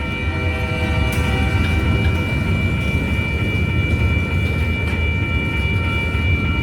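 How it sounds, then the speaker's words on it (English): A freight train with many coil cars rolls steadily past at close range, a loud continuous rumble of wheels and cars with a persistent high metallic whine and occasional clanks. "A bunch of coil cars on this one."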